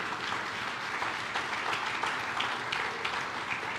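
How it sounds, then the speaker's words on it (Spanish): Church congregation giving a round of applause, a fairly faint, even patter of many hands clapping throughout, with no voices above it. "Vamos a darle otro aplauso a nuestro Padre"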